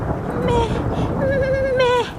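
A cartoon goat bleats twice in a Hindi children's cartoon: a short wavering bleat, then a longer quavering one that rises at the end, loud and close over a soft background.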